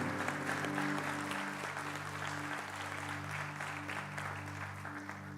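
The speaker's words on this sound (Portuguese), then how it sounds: "Pode aplaudir" Applause from a church congregation during a Mother's Day morning service, a steady broad wash of clapping held over a low sustained hum, fading slightly toward the end.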